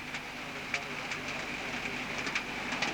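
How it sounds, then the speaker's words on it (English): Heavy, wind-driven rain lashing almost horizontally in abysmal conditions at a racecourse in October 1986, a steady loud hiss with scattered sharper spatters throughout. "Rain's almost horizontal at the moment."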